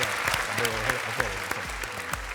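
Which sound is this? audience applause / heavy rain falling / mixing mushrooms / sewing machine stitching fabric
audience applause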